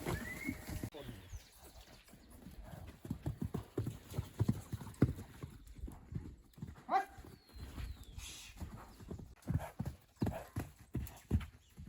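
Horses walking on the way to a river in Ecuador, their hooves clip-clopping in a steady uneven rhythm close by for the whole stretch, with faint outdoor background and a distant snort or whinny.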